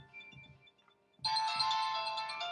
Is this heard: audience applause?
no